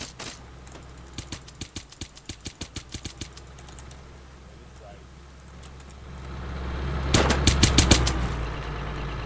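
A rifle in Arma on the Takistan map fires as a run of evenly spaced single shots, followed after a pause by a louder, denser burst, over a low vehicle-like rumble.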